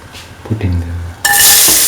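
Onion pieces hit hot clarified butter in a pan, and after a few quiet clinks and low rumbles a loud, steady sizzle bursts up and holds close and bright.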